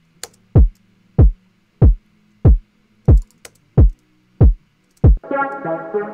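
A staccato kick drum from a hip-hop beat chorus punches eight times in an even rhythm, each hit short, loud and booming with a sharp attack over a faint tone, before denser synth layers come in at the end.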